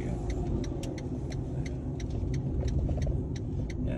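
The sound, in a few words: car traffic on a street at night in Rome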